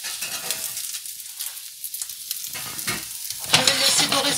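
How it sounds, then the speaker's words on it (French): Steak sizzling in a hot frying pan, a steady close crackle that swells louder near the end as the meat browns, with light scraping in between and no talk. "Je vais y déposer mon steak. Je vais le laisser dorer sur les deux"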